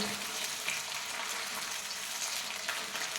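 Oil for an Ayurvedic hair treatment, with maka (bhringraj) herb and banyan aerial roots, heats in a pan on a gas stove and sizzles steadily with a dense crackle throughout, close and fairly loud, no voices.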